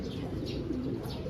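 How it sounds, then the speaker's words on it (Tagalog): A small pastel pigeon gives soft, low cooing notes, a brief repeated call under a steady background hum. "Meron tayong isang ibon doon na pasaway."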